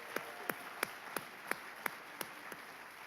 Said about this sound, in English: So please join me in a warm applause for Veronica Haudicke